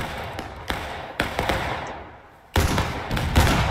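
Musket shots in the War of Rights Civil War video game, with several sharp cracks scattered across a few seconds, some near and some distant, over a continuous battlefield din.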